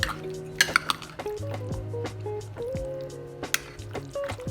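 Raw shelled prawns are mixed in a bowl for masala prawns, giving soft wet squishes and a few sharp clinks against the bowl, close and moderately loud, under a steady background hum.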